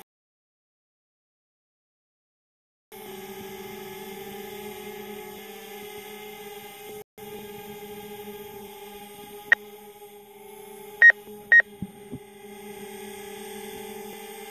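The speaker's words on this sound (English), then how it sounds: "You hear that little beep? That was collision avoidance." A drone's collision avoidance warning gives a few short, sharp beeps over a steady motor hum outdoors, the tones brief and clear against the continuous drone.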